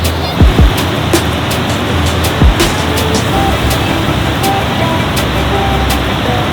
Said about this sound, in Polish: Tutaj mamy wodospady rzeki Bow